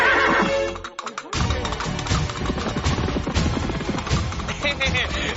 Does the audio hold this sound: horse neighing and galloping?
yes